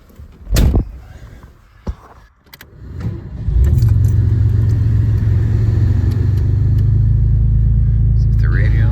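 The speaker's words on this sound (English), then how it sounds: "we'll take it for a little drive around a couple blocks" 1986 Mercury Cougar with a 3.8L V6 starting up after jingling keys and a door thump, then settling into a steady, close low engine rumble as it pulls away, with brief talk early on.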